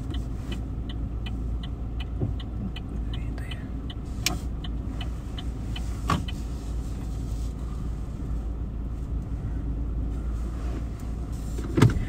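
A car is driven home on a snowy winter day, giving a steady, low cabin rumble of engine and road noise with a soft repeating tick and occasional faint clicks and knocks inside the vehicle.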